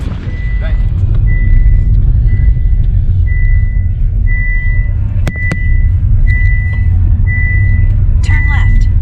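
A car backing up along a dusty road, engine rumbling steadily with repeated intermittent reversing beeps, close and loud, a sharp click or knock near the middle and a voice briefly near the end.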